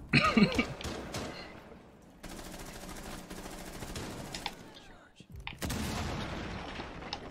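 Gunfire in the video game Rainbow Six Siege sounds in sharp bursts at the start, then as a steadier stretch of rapid shots and a loud return of fire near the end, with players talking.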